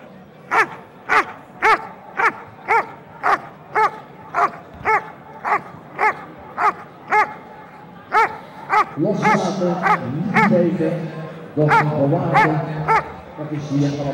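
A police dog barks during KNPV obedience and bitework trials, a steady, regular series of loud, evenly spaced barks, then keeps barking while a voice talks over it.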